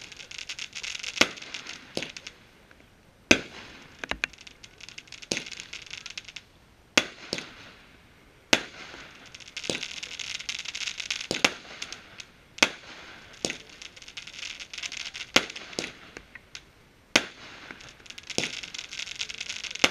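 A 30 mm firework battery of 13 shots fired during New Year's Eve pre-firing in Küps: a series of sharp, loud bangs spaced roughly a second apart, some with faint crackle between, heard in open air.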